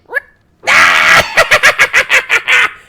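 A human voice imitates a creature's screech, a brief rising squeal followed by a loud, harsh shriek that breaks into a rapid series of chattering, cackling pulses and ends in a final drawn-out cry.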